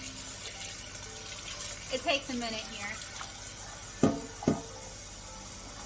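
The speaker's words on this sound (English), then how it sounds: "I'm going to dump my original egg water and I'm going to run some fresh hot water." Fresh hot water runs from a kitchen sink tap as a steady, faint hiss while a person talks over it, broken by two short knocks near the end.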